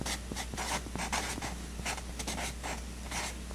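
Handwriting on a surface while explaining alcohols and alkyl halides, heard as a quick run of close, soft scratchy strokes in short bursts with small pauses between them, and no voice over it.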